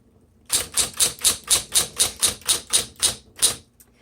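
A 1970s Smith Corona Electra 210 typewriter clacks through a quick run of about a dozen evenly spaced, sharp keystrokes, close and crisp, ending with a couple of slower taps.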